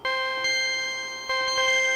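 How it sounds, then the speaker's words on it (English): Mellow synth chimes from an Alchemy preset ring out in sustained, bell-like tones, with soft fresh strikes landing a few times over two seconds, each note decaying slowly under the next. "These mellow chimes"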